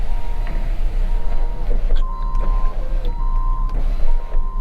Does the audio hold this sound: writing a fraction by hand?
no